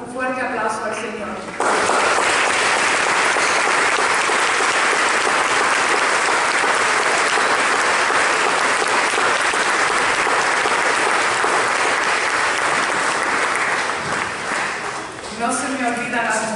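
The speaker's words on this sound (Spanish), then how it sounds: "Vamos a dar un fuerte aplauso al Señor." Loud, sustained applause from a church congregation during a Via Crucis service, a dense wall of clapping lasting over ten seconds, with a speaking voice briefly before it starts and again as it dies down.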